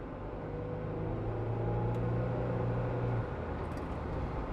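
A 2001 Isuzu Trooper driving in traffic, with a steady low engine drone and road rumble from inside the cabin holding fairly even as it speeds up, a faint tone dropping away near the end.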